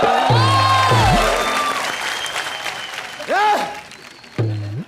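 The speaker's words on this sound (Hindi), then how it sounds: "जोरदार तालियां, कॉमेडी नाइट बचाओ।" A studio audience on a TV comedy show claps in bursts, the applause swelling beneath loud swooping musical stings and sound effects that rise and fall over it.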